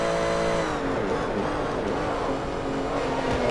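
A Ferrari race car engine in Forza Motorsport 3 drones steadily at high revs through the whole stretch, the tone dipping slightly as it shifts, with no one talking over it.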